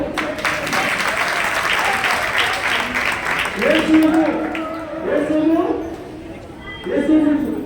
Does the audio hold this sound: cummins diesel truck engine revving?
no